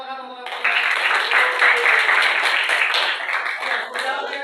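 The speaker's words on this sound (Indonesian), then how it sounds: "kasih tepuk tangan untuk mereka" An audience claps for the winners at an Islamic religious education class event, a steady dense round of applause lasting several seconds after a brief moment of speech.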